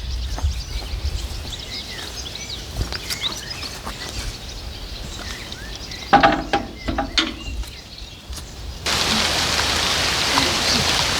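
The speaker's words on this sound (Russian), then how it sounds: "Дождь идет" Rain falls at a house being restored in a remote village, a soft steady patter with birds calling and some knocks and handling noises, then the rainfall swells to a louder hiss near the end.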